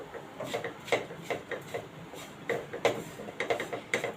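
A spatula stirs gram flour (besan) roasting in a pan for a moong dal kachori filling, giving close, repeated scraping and rubbing strokes in an uneven rhythm, with no talking.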